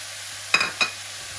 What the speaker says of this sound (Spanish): Vamos a mover nuestra verdura.